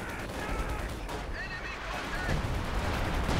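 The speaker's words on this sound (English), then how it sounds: "We got a barrage going down here in the north." Artillery barrage in the video game Company of Heroes 2, a dense wash of rumbling shell bursts and battle noise with faint whistling shells overhead, steady and loud throughout.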